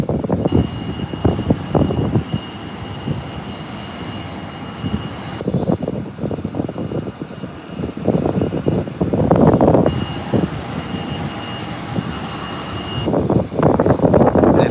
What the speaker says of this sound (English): Coming down the runway now. It's gonna be going up soon. The nose wheel is up, it's off the ground.